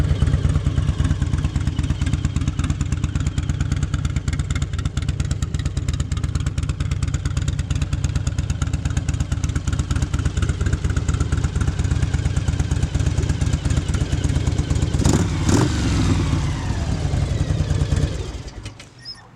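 A 2002 Harley-Davidson Ultra Classic with upgraded motor idles close by in a loud, lumpy, rhythmic throb. It runs steadily for most of the time with a brief rev near the end, then shuts off.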